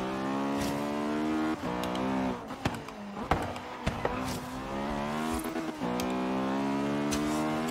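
An Acura Integra Type R in Forza Horizon 3 drops from sixth gear into a braking zone, its engine note falling in steady harmonic tones with brief gear-change breaks and light tyre noise, loud and close throughout.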